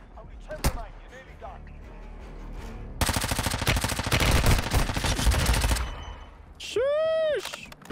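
Rapid gunfire from a weapon in the Warzone Mobile shooter game, a single early shot then a dense, loud burst of automatic fire lasting a few seconds, followed by a rising electronic game tone; a voice speaks briefly.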